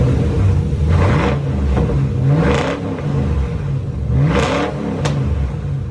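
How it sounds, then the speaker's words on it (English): A race car engine revs repeatedly, its deep rumble rising and falling in several swelling pitch sweeps, loud and close throughout with no talking. "That's the race car."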